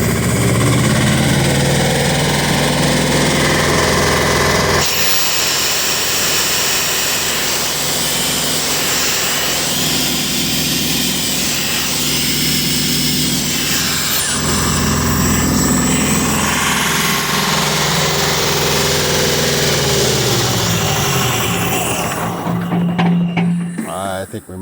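A P100 air compressor runs loud and steady from start to finish, its pulsing drone shifting in pitch near the end before cutting off abruptly.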